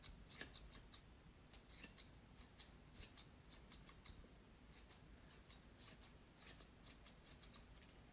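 Scissors snip a dog's fur during grooming in a steady series of quick, quiet close-up cuts, roughly two per second, with no talking.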